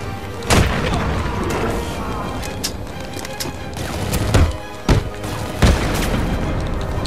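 Gunfire in the video game Batman Arkham City: several sharp bangs and booms spaced irregularly over a steady bed of game ambience, fairly loud.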